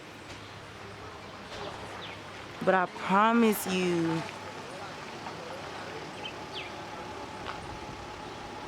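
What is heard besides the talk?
birds singing in El Yunque rainforest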